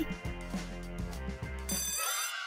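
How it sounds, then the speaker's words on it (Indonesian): Bell ringing at the end of a class on a university campus, a loud continuous electric ring lasting about two seconds before cutting off into a brief shimmering tail. "Bunyi bel, kelas selesai."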